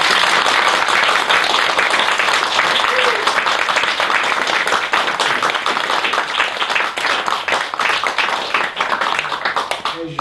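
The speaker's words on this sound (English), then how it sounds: "So you can clap now." A conference audience in London applauds after a talk, a sustained wash of clapping from many hands that thins toward the end, with a brief voice underneath.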